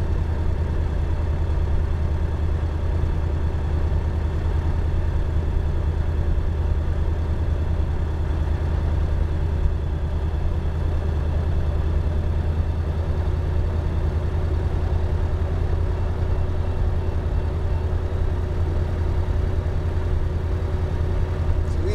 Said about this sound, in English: We will hold the RPM to 2500 so that the temperatures come in the proper range.